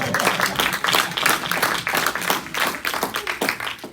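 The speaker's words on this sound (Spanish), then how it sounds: "Dale un aplauso al Señor, por favor." A church congregation applauds together in a dense, lively burst of clapping that holds steady for several seconds.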